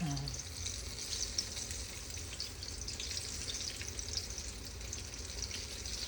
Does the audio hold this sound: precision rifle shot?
no